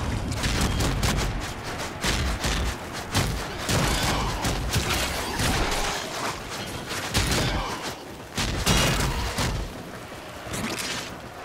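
Rapid, overlapping gunfire bursts and booms from a video game fill the scene continuously, loud and dense with repeated volleys.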